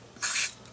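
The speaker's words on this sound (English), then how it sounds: "It's probably not a bad idea to use some penetrating solvent just in case." A single short burst of penetrating solvent from an aerosol can, sprayed onto bolts during a polyurethane sway bar bushing upgrade on a DeLorean, a close, steady hiss lasting about a quarter second.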